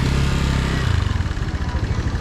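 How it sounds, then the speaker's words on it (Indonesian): Motorcycles pass along a busy city street in Medan, Indonesia, a loud close engine rumble that shifts and fades into clattery traffic noise, with no talking. "Banyak motor ya."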